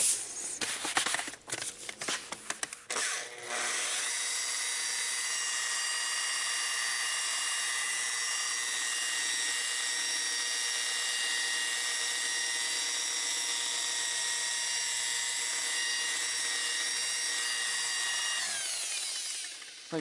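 Rotary polisher buffing a car headlight with compound on a low speed setting, a steady high-pitched whine holding for most of the stretch after a few rough starts and rubbing bursts.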